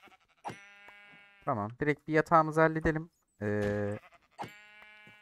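Sheep in Minecraft bleat repeatedly and clearly nearby, a couple of wavering cries standing out, while someone talks over and between them.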